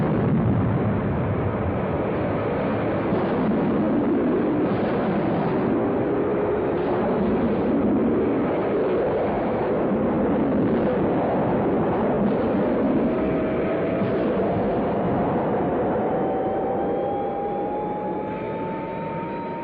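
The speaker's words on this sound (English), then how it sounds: "Okay, Greg, lift off." A spacecraft lift-off in a space exploration video game, a steady loud roaring engine rumble with a slowly rising tone throughout, no talking.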